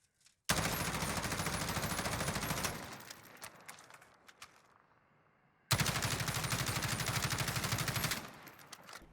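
Sustained automatic fire from M4 and Kilo assault rifles fitted with attachments in the video game Modern Warfare, two long loud rapid bursts separated by a brief pause with faint clicks, no talk.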